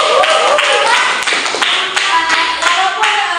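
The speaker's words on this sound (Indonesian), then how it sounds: "tepuk tangan" Students clapping their hands in a classroom, a quick steady rhythm of sharp claps from a small group close by, lasting a few seconds over a bright background.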